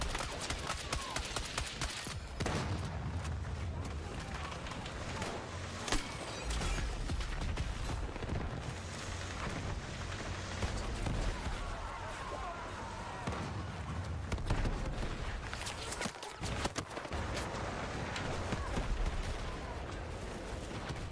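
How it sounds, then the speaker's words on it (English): Mortar explosions and tank fire from the video game Battlefield keep going as constant rapid booms and gunfire. The noise is dense and loud for the whole stretch, with no calm gaps. "why are there so many explosions constantly? What's going on here? Is everyone on their team using mortars?"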